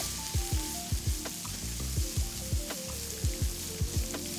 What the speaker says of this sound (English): Saute the onion for about a minute.